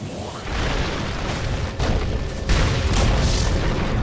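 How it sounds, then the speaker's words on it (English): A tower in Dota 2 collapses in a heavy, rumbling explosion, a loud sustained boom that swells in waves over about four seconds. "Dire's top tower has fallen"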